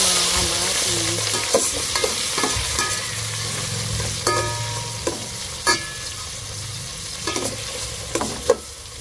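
Tomatoes go into a pot of sinigang sa miso with lapu-lapu fish and get stirred: a constant sizzle beneath repeated sharp clacks and scrapes of a utensil against the pot, close and loud.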